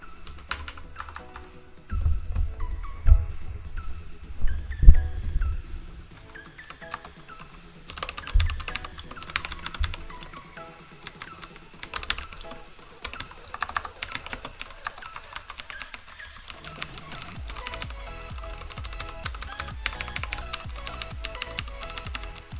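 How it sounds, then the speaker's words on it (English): Steady typing on a Razer BlackWidow Elite mechanical keyboard, rapid clacky keystrokes in bursts and runs, close and clear with occasional heavier thumps from larger keys. "Here is a sound test of the Razer Black Widow Elite."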